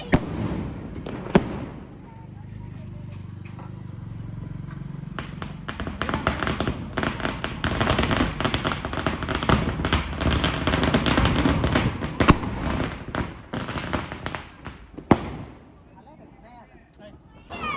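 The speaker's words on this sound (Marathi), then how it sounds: "फटाके उडवायचे." Diwali firecrackers crackle and pop in rapid bursts for several seconds, with sharp louder bangs scattered through, nearby, while people talk and call out around them.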